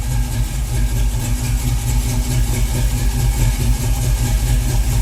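A 1968 Ford Mustang V8 with a carburetor idles steadily at around 750–800 rpm, a close, loud, even low rumble with a regular pulsing beat and no voices.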